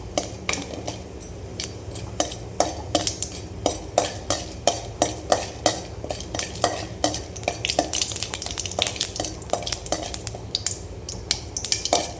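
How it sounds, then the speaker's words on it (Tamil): Mustard seeds splutter in hot oil in a home kitchen pan, with sharp crackles and pops repeating in a fairly regular rhythm over a low, continuous sizzle, close and clear with no talking. "கடுகு நல்லா பொரிஞ்சதுக்கப்புறம் தான் நம்ம வெங்காயத்து போட்டோன்னே பாருங்கள் நல்லா பொரிஞ்சிருச்சு சவுண்டு வருது பாருங்கள் சட்ட சடன்னு"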